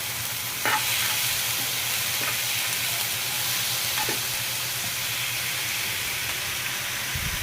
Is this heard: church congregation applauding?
no